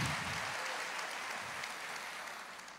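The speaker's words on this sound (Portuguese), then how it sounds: "Aplauda ao Senhor." Church congregation applauding at a Christian sermon, a steady dense wash of clapping that slowly fades over a few seconds, with no voices over it.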